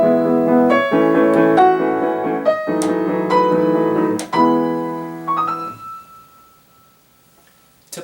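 Piano plays the opening legato phrase of a Beethoven sonata in a plain, neutral manner as scored, with smooth connected chords moving upward, then a single held high note that decays into quiet, and a faint click at the very end.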